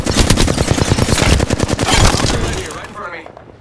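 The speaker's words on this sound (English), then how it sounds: "They're shooting at me! I'm under fire!" Rapid automatic gunfire in Apex Legends, close and loud, dozens of sharp evenly spaced shots in a fast burst that trail off into a fading echo, with a voice shouting over the shooting.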